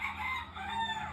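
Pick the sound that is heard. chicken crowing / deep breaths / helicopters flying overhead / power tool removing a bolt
chicken crowing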